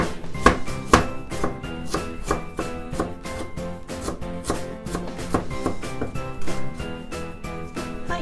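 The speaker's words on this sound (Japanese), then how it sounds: "生姜一かけらみじん切りにします。" A knife minces a piece of peeled ginger on a board in fast, even chops, with close taps ringing slightly and continuing steadily without talk.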